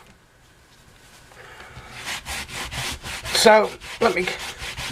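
A knife edge is stroked back and forth on a 400 grit sharpening stone, making a run of close, rhythmic rasping scrapes after a quiet start, with one brief spoken word.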